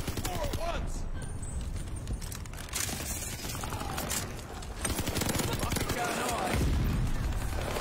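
Bursts of assault rifle fire from the Vargo S in an online shooter game crackle loudly and repeatedly, rapid rattling volleys running under a player's talk.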